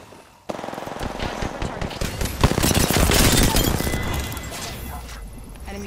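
Automatic gunfire in the video game Apex Legends, a rapid, loud stream of shots starting abruptly and continuing without pause, with a heavier crack partway through and faint game voice chatter beneath.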